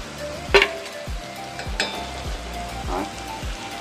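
Chili powder, turmeric, sugar and spices sizzle and fry in a pan for a Bengali fig curry, a steady hiss punctuated by a few sharp clinks and scraping stirs of the spoon.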